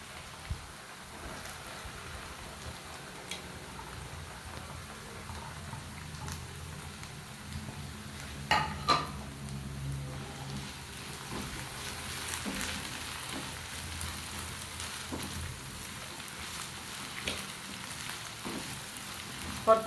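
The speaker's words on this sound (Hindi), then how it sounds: "अब हम इसमें प्याज ऐड करेंगे" Potatoes with onion frying over a medium flame give a soft, continuous crackle, close by and fairly quiet, broken now and then by a few sharper clicks and pops.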